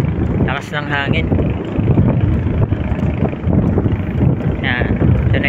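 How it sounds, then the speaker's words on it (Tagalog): Strong wind buffets the microphone near the shore at Talisay, a loud, rumbling roar that never lets up, while a voice speaks briefly over it. "Lakas ng hangin."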